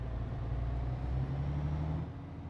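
A heavy truck engine in the driving game Euro Truck Simulator 2 drones steadily at close range, a low rumbling hum that dips slightly in pitch toward the end, with no voices.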